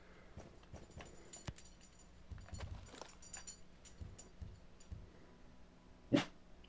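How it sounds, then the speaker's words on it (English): Scattered faint barks from a dog in the Ghost Recon Breakpoint video game, mixed with footsteps and clatter, then one sharper, louder bark near the end. "She likes to just bark at nothing."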